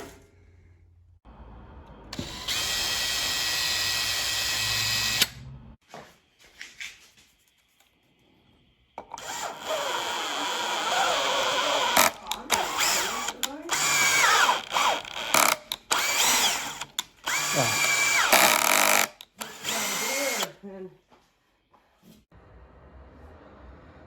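A power drill with a depth stop bores holes into aluminum in several bursts, close and fairly loud, with short pauses and handling noises between passes.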